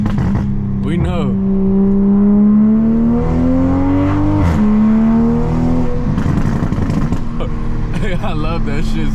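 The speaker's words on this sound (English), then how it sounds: "let's get a good downshift" Toyota Supra engine revving hard on a downshift, sharp rising and falling blips that sweep in pitch, close and loud, with a voice talking briefly over it.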